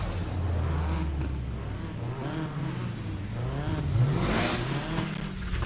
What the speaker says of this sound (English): I like that we can rev your engine just random in the loading screens.